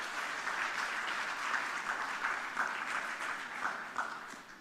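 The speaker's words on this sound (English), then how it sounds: "give a big round of applause to all the participants" Steady applause from a seated audience at a corporate governance awards ceremony, honouring the participants; fairly faint and distant, an even patter of many hands with no talk over it.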